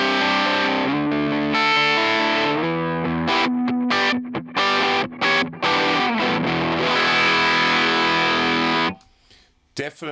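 Overdriven electric guitar amp playing sustained chords, then choppy stabs with short gaps, ending in a few quiet fragments.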